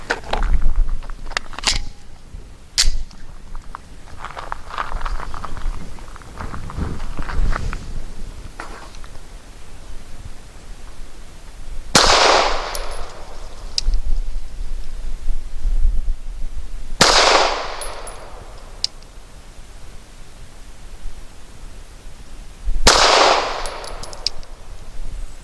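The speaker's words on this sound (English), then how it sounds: "We're about 7 yards and we'll be taking 5 shots." A Taurus G3 pistol firing Nosler 147-grain rounds at about 7 yards, with sharp, loud single shots spaced several seconds apart after earlier scattered clicks and handling noises.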